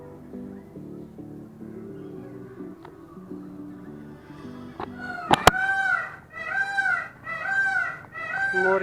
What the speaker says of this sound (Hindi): मोर की आवाज़ सुनाई दे।